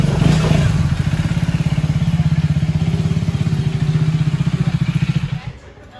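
A Yamaha FZ motorcycle is ridden, its engine thrumming in a steady rapid pulse close by for several seconds before easing off at the end.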